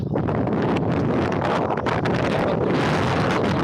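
Loud, continuous rain-laden storm wind over farm fields roars and buffets the microphone throughout, a dense rushing blast with no pauses.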